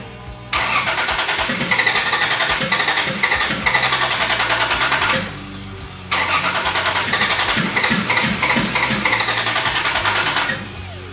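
A car engine cranks hard with a fast rhythmic starter whir in two long bursts of about five seconds each, separated by a brief pause, loud and close, without catching. The car has newly fitted fuel pumps and a grounded igniter.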